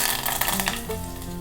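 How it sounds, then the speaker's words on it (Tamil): Curry leaves hit hot oil with mustard seeds and fenugreek in a South Indian tempering, producing a close, crackling sizzle that spikes early and then settles into steadier frying hiss. "கொஞ்சம் கருவேப்பிலை"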